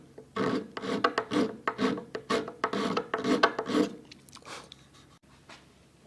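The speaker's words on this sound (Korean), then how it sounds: "미세한 부분은 스크래퍼로." A hand scraper shaves the wooden rocker of a Maloof-style rocking chair in about a dozen short, rhythmic rasping strokes. The scraping is close and dry, then stops.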